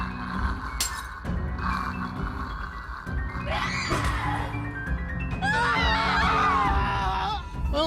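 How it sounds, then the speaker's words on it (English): A monster's distorted, wavering scream from the horror game The Letter rises twice over a dense, droning game soundscape, the second cry longer and louder, with no one talking. "at least we got a different scream"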